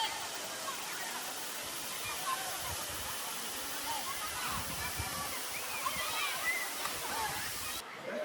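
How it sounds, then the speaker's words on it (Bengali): Moti Jharna waterfall in the Rajmahal hills at Sahibganj, water dropping straight down from a high rock face, gives a steady, dense broadband roar that fills the whole stretch without pause. "উঁচু পাহাড় থেকে সোজা হয়ে জলের ধারা লাফিয়ে নিচের দিকে নামছে।"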